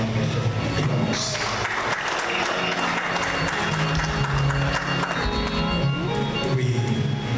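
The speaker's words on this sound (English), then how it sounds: "Put your hands together and give the Lord a round of applause." A congregation applauds at a homegoing service, with dense, sustained clapping filling the room at steady volume, mixed with crowd murmur and background music.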